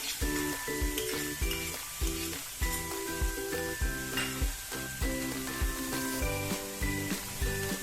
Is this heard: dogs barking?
no